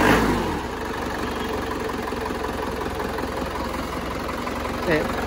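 An Isuzu Panther diesel engine with a repeatedly overhauled, faulty engine runs steadily at idle, a loud continuous low rumble with vibration, briefly revving near the start and end.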